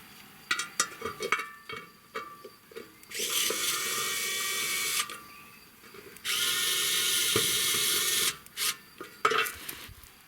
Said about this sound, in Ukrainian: ось така викрутка дуже полегшує роботу